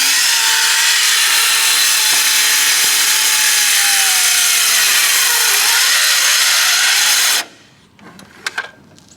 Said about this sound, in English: start making cuts to build one box to see what it looks like